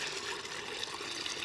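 Water splashes and sloshes in a bucket in a continuous, fairly loud wash of liquid noise with no clear breaks and no voices.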